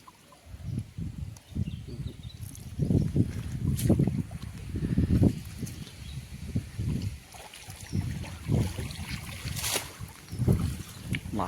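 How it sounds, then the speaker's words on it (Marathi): Gusty wind buffets the microphone in uneven low rumbles, rising and falling over a faint hiss of open water. "वारा सुटलाय जरा"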